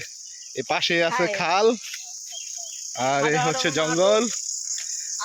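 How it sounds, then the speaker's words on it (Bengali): Crickets chirp in a steady high trill along a village road past a canal and woodland, running continuously under two stretches of someone talking. "আর অবশ্যই আপনারা ঝিঝি পোকার শব্দ শুনতে পাচ্ছেন।"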